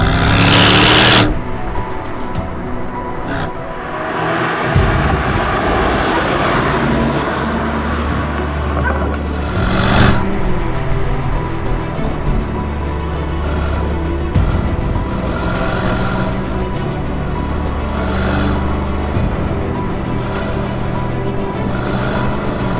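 Aston Martin DB12 Volante engine revving, loud and close, with repeated rising and falling surges and a sharp blip near the start and again midway, no talk.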